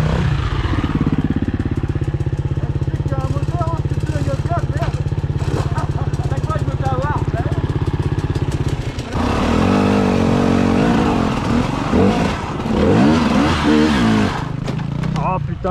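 An enduro motorcycle engine runs loudly and continuously at close range, its pitch rising and falling as the throttle is worked, with people talking over it at an off-road enduro event.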